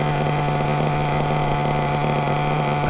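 A Hobao Hyper VS2 RC buggy with a nitro engine idles, giving a steady, loud, buzzing hum with a constant pitch and no pauses.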